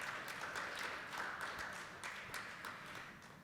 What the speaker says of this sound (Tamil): உங்கள் பலத்த கைத்தட்டு மூலம் அவர்களுக்கு மீண்டும் நமது நன்றியை தெரிவித்துக் கொள்வோம்